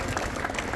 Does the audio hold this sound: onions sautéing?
no